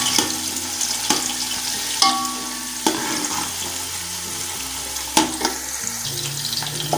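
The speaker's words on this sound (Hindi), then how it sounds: "अभी प्याज डाल लेते हैं।" Chopped onions fry in hot ghee in a pan for a Pakistani mixed vegetable curry. A steady, moderate sizzle runs throughout, with stirring clanks and scrapes every second or so and no voices.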